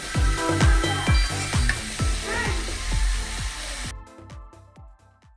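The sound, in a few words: stirring and frying taro stolons with prawns in a pan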